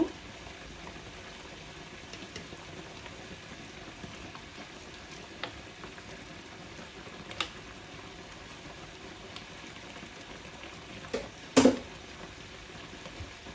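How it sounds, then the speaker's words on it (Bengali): A tablespoon of ghee sizzles in a pan of shahi chicken roast, a steady soft crackle and hiss throughout, with a few brief sharp clinks near the end. "এ পর্যায়ে আমি এর মধ্যে এখন 1 টেবিল চামচ পরিমাণ ঘি দিয়ে দিব।"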